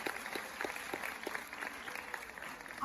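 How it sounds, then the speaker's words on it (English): Audience applause for a panel of nurses at an International Nurses Day event, a steady round of clapping at moderate distance with no voices over it. "Let's give all of them a warm round of applause."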